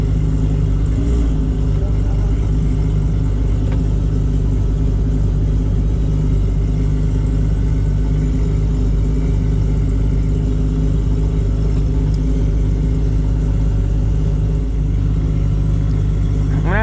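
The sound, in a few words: fast street cars racing with engines roaring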